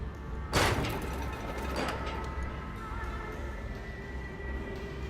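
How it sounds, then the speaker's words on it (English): A heavy door in the video game Amnesia: A Machine for Pigs opens with a loud thump followed by a second scraping bang, over a low droning ambience that continues afterward. "Oh, that's some heavy door."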